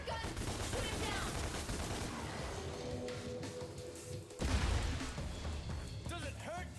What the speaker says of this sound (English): Now use your gun! Shoot him down!